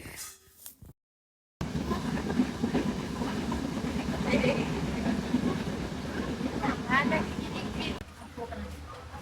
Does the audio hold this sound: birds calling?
no